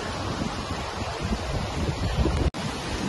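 Sea waves at Mandarmani beach make a continuous broadband roar with wind buffeting the microphone and a brief dropout near the end, with no speech.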